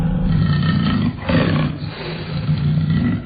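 A tiger gives a loud, close, sustained roar and growl lasting a few seconds, a deep rumbling rasp that swells and dips with no talk over it.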